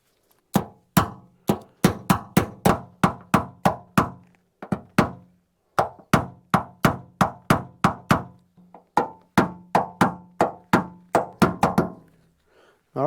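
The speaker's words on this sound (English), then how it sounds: "Knockdown and the blending hammer." Sharp hammer taps on car body panel metal, knocking down and blending a dent during paintless dent repair, struck in quick rhythmic bursts of about a dozen blows separated by short pauses, close and loud.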